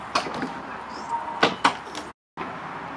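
The entry door of a Coachmen Prism 2150LE RV opens with a few close clicks and knocking thumps of the latch and frame, then a short silence.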